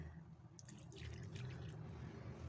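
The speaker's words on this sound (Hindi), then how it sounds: "कप की मदद से इसमें पानी डाल रही हूँ, तो पानी हमें ध्यान से डालना है।" Water poured from a cup into a pan of pasta and vegetables, a soft, steady trickle and splash at close range, fairly quiet with no talking.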